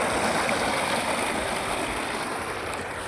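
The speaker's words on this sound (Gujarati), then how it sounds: "ડુંગળી ધોણા મેથીમાં પાણી ચાલુ કર્યું છે." Irrigation water pumped into onion and fenugreek fields rushes steadily through a channel, a broad continuous close splashing flow that fades slightly toward the end.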